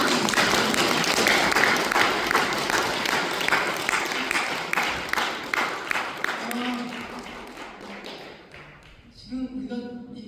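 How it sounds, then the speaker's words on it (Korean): An audience at a lecture bursts into loud clapping that fills the room, then gradually thins and fades, ending with a few scattered claps and faint voices underneath. "감사 박수를 한번 더 크게"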